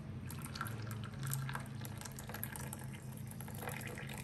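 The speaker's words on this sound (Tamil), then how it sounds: "இப்போ நம்ம டீயை வடிகட்டிக்கலாம்." Karpooravalli herbal tea strained into a cup, a steady soft trickle and pour of liquid with faint drips, fairly quiet and continuous without speech.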